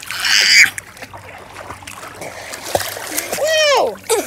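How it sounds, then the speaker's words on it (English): Splashing in a backyard swimming pool, a loud burst of spray at the start followed by lighter water movement while children talk and one gives a rising shout near the end. "Splish splash."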